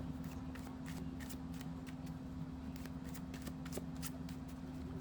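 A deck of textured, fairly thick card stock is shuffled: quiet, rapid riffling with a string of crisp flicks and snaps close by over a low steady hum, with no talking.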